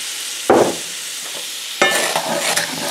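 A bubbling reduction of wine, garlic and butter sizzles loudly in a hot pan, with two bursts of stirring that briefly raise the hiss.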